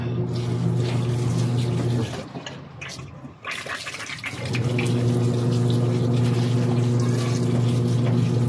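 Water gushes steadily into a basin for hand-washing laundry. A strong, continuous rushing fill breaks off into a brief spluttering pause midway, then resumes at full force.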